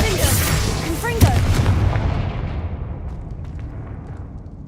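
Confringo and Bombarda spell explosions go off in the Hogwarts Legacy video game: a loud booming blast up front, a second thud about a second later, then a long rumbling decay that fades toward quiet.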